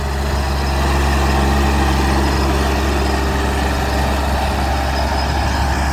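A VST 18 HP four-wheel-drive minitractor engine runs steadily in a wet paddy field, a loud, continuous low diesel drone close by with no talk.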